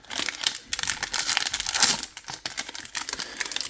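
A 2021-22 Upper Deck Stature hockey card pack wrapper is torn open with close, continuous crinkling and crackling of foil plastic for a few seconds.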